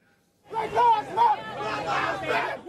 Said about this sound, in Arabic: بلاك لايفز ماتر أو حياة السود مهمة هتاف يتردد لليوم الثالث على التوالي